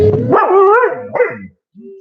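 A dog barks loudly and close by, giving a couple of sharp, drawn-out barks that trail off, followed after a brief pause by a short softer whine, indoors beside a table.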